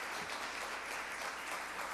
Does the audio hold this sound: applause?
yes